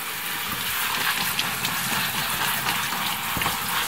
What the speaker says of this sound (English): So the first thing I do is get some fresh peppers and give them a wash.